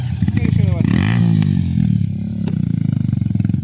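A Loncin 150 motorcycle engine revs up close, rising and falling throttle blips over a rough idle, with someone talking over it.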